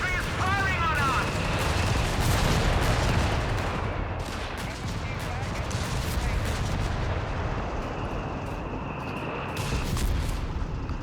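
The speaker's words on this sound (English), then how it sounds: "Infantry is firing on us." Company of Heroes 3 battle din: dense gunfire and booming artillery blasts rumble continuously at a moderate distance, while in-game voices shout over the fighting.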